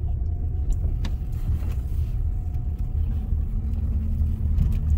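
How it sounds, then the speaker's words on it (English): Soft cloth car wash with MacNeil tunnel equipment and a Protovest 90T, heard from inside the car as a steady low rumble with faint thuds and swishes, constant and moderately loud. "Just a regular soft cloth car wash."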